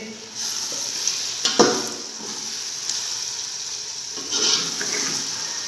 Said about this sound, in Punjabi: ਜਿਹੜਾ ਅਦਰਕ ਤੇ ਲਸਣ ਅਸਾਂ ਕੁੱਟ ਕੇ ਰੱਖਿਆ ਸੀ ਉਹ ਪਾ ਦੇਵਾਂ ਤਾਂ ਪਾ ਕੇ 3 ਕੁ ਮਿੰਟ ਵਾਸਤੇ ਅਸੀਂ ਇਹਨੂੰ ਭੁਨਾ ਦੇ